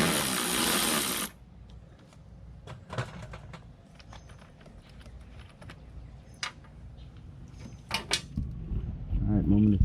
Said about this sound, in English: we're not going to tighten with that power ratchet. Only loosen and lightly.